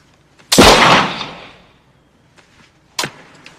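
A single loud M1903 Springfield rifle shot cracks nearby in a film scene, its report decaying over about a second, followed by a sharper metallic click or second impact a few seconds later.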